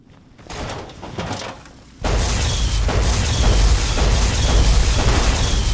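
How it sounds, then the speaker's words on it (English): A Tesla cannon fired in the video game Fallout New Vegas: a heavy booming blast hits after a quieter lead-in, then a loud, dense roaring rumble carries on to the end. "So I'm gonna pull out the Tesla cannon and just start blasting."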